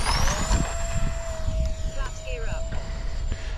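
An RC A-10 electric ducted-fan jet, either an E-flite 64mm or an FMS 70mm model, flies with a steady high-pitched whine, while someone talks over it and wind buffets the microphone.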